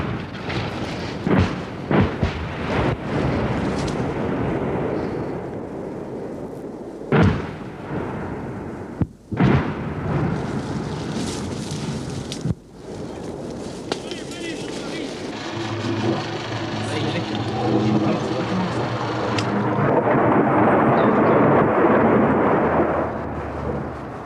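French artillery shells exploding far off, heavy booms scattered through the stretch, some sharp and some dull rumbling, heard under ongoing outdoor talk between men, with a rising steady noise toward the end.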